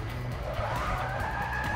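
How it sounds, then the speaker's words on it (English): Tires squeal and skid as a race car spins its wheels in Forza Motorsport 6, a rising whine over steady engine roar. "A lot of wheel spin."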